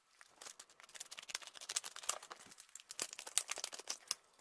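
Packaging being unwrapped from a small, lightweight personal sound alarm, giving quiet, close plastic crinkling and crackling in quick irregular bursts that continue for several seconds.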